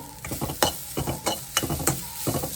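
Spices frying in a pan for Jaffna crab curry, with crisp sizzling under quick, rhythmic stirring scrapes and clatter, close and moderately loud.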